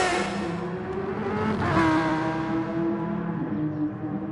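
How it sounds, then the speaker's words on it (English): LMP prototype race cars sweep through a hairpin in GT Sport at Dragon Trail Gardens, with a steady, loud engine drone and overlapping harmonic whines rising and easing through the corner. "The LMP's rounding the hairpin."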